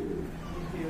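A big Lahori pigeon, one of a white-and-black pair, gives a soft, low coo, close and steady through a short moment without talk.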